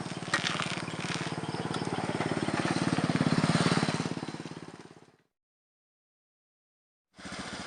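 Motorcycle engine running steadily while ridden in fourth gear, a close, continuous buzzing drone for about five seconds, then cutting off into silence before resuming briefly.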